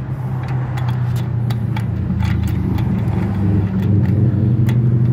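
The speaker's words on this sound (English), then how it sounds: "The car starts to roll out the driveway." A Holden VE Calais car rolling slowly out of a driveway, a steady low engine hum with a slight rise in level near the end, continuous and close throughout.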